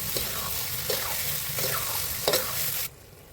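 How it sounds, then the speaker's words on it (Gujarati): A spoon stirs boiled green pigeon peas (tuvar) into a cooking pan for tuvar na totha, with about four scraping strokes over a soft sizzle before the sound cuts off abruptly. "બાફીને તૈયાર કરેલી લીલી તુવેર ઉમેરી બરાબર મિક્સ કરી લો"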